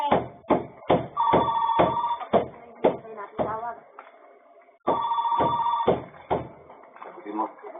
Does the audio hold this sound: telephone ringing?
yes